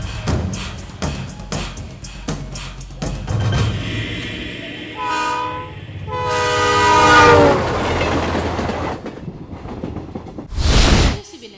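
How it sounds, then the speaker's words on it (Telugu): The Godavari Express, from Visakhapatnam to Hyderabad, pulls into platform 2 of a station with rattling wheel clatter, then long, loud horn blasts in the middle and a final sharp burst, all near and prominent. "ట్రైన్ నెంబర్ 2727 విశాఖపట్నం నుండి హైదరాబాద్ వచ్చు గోదావరి ఎక్స్ప్రెస్ మరికొద్ది నిమిషములలో 2వ నెంబర్ ప్లాట్ఫామ్ లకు వచ్చు"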